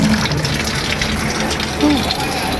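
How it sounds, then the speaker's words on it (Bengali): Steady rushing water from a hose or spray watering plants on a rooftop, broadband and continuous, with a voice speaking briefly over it. "চলে এলাম ছাদে গাছে পানি দেওয়ার জন্য"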